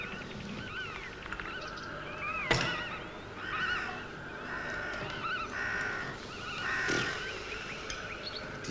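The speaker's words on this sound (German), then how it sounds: "Die Vögel, sie singen so reizend." Birds in a monastery garden call repeatedly with harsh, cawing and honking cries, moderately close and spread over several seconds, with a sharp knock near the middle.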